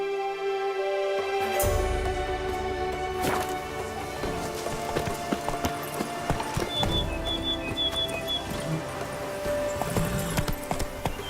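A horse gallops in The Witcher 3 with steady, close clip-clop hoofbeats over a musical score, and a brief whinny comes partway through.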